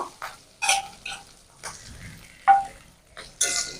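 Chopped tomato with ginger paste fries in a pan, giving short sizzling bursts and scraping stirs in an irregular rhythm, close and moderately loud, with no voice.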